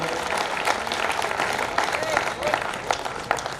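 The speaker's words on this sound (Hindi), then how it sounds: "एक बार जोरदार तालियां बजा दीजिए" An audience at a Hindi poetry gathering (kavi sammelan) in Vidisha claps in a dense, continuous burst of applause, with a voice carrying over it.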